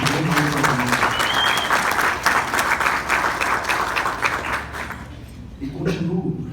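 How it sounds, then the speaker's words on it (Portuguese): An audience gives a warm round of applause for Dr. Ágila Carvalho at a formal event, many hands clapping loudly for about five seconds before the sound thins out and a voice resumes speaking. "quero pedir uma efusiva salva de palmas pela realização desse grande movimento"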